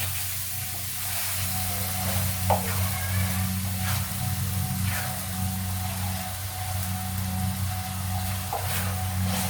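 Chicken tawa pieces coated in masala fry on a hot tawa with a loud, continuous close sizzle, while being stirred and mixed, giving occasional soft scrapes.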